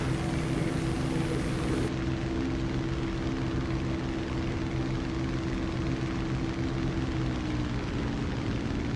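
A steady, droning aircraft engine holds cruise at 80% throttle in the War Thunder flight game, a continuous loud hum with no change in rhythm and nobody speaking.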